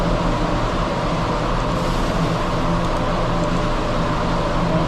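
A 2021 Subaru Outback XT turbo on a dyno, its engine and rollers winding down in a steady, loud, broadband roar that holds evenly throughout with no talk.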